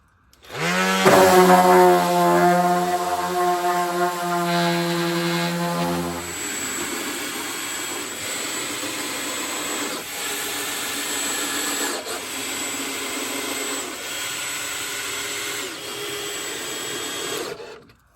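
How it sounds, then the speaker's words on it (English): A power sander working on a wooden cooking prep table, opening with a loud tonal motor whine that shifts into a steadier, rougher grinding buzz and runs continuously before cutting off at the end. "I'm gonna sand this for another second."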